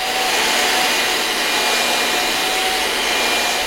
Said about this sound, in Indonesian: 70 dB ketika kalian mendengar suara mesin penyedot debu.